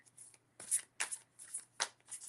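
Tarot cards are shuffled in several quick riffling bursts, crisp and close, with short pauses between each pass.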